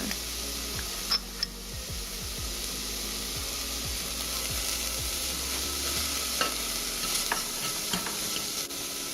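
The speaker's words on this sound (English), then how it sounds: "I'm just going to saute this for a little bit" Minced garlic sautés with black pepper and kosher salt in a pan, giving a steady soft sizzle broken by light scraping stir strokes and a few sharp ticks, with no voices.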